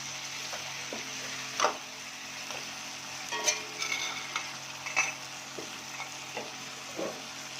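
Tomatoes for fish biryani fry and get stirred in a pan, giving a steady close sizzle with soft scraping strokes and a few sharper clicks from the spoon spread through the stretch.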